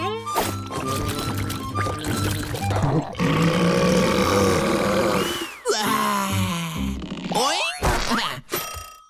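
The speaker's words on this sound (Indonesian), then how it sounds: "Nenek Pens bilang bersendawa adalah tanda internasional bahwa kamu menikmati makananmu" A cartoon character lets out a loud, drawn-out, growling burp over busy animated-show sound effects and music, with several rumbling bursts in a row.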